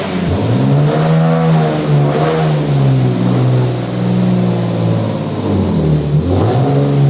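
A Nissan 370Z engine idles and revs close by, the loud mid-pitched note climbing and falling through several revs in steady, continuous running with no voices.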